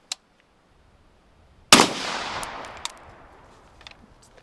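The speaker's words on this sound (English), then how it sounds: "A couple rounds into the dirt." Suppressed rifle fired through a home-built JK Armament Form 1 suppressor into dirt outdoors: a faint pop near the start, then one loud sharp crack with a long decaying tail, and a smaller report near the end.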